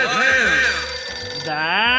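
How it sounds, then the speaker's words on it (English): A telephone bell rings in warbling, wavering tones, loud and close, with a voice speaking over part of the ringing. "That's the telephone."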